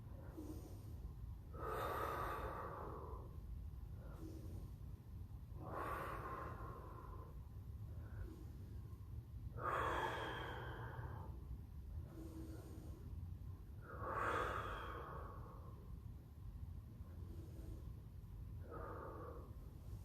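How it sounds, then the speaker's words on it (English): Deep breathing during a mobility stretch from a full-body flow routine, about five slow, audible breaths at a steady rhythm. The breaths sound close and airy against a low background hum, with no talking. "take 5 deep breaths in this position"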